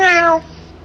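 A cat gives a single short, loud meow close by, which cuts off quickly into a quiet room.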